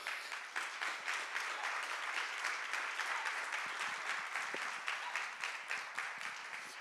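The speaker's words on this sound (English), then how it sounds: "Would you please give a round of applause to that video?" Sustained applause from a community college forum audience, a dense, steady wash of many hands clapping at moderate distance, continuing evenly without talk.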